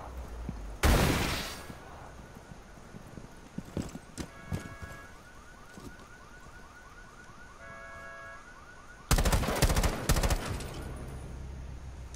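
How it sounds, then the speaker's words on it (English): Gunfire in Tom Clancy's Rainbow Six, two loud bursts of rapid shots separated by quieter stretches with scattered clicks and a warbling alarm-like tone, close and harsh. "I shot him through the fucking table."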